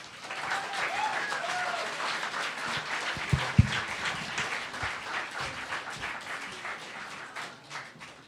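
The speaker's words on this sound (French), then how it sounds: "Merci de l'accueillir avec beaucoup d'applaudissements." An audience at a Femmes en Sciences evening event applauds to welcome a speaker, a sustained dense wash of many hands clapping that swells and slowly tapers, with a couple of louder nearby claps midway.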